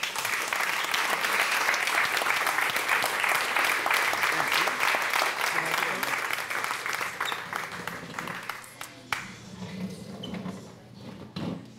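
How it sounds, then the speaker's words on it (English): Rapturous audience applause after a lecture on Earth's history and human history, a dense, loud wash of many hands clapping that holds steady for most of the stretch, then thins and fades near the end. "Oh, yeah, rapturous applause."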